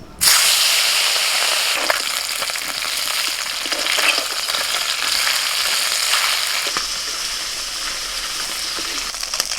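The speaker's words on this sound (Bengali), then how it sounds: "তেল গরম হয়ে গেছে, প্রথমে মাছটা ভেজে নেব।" Fish frying in hot mustard oil in a wok over a lit stove, a loud continuous sizzle and hiss that starts abruptly and holds steady throughout, with crackling bursts and no talking.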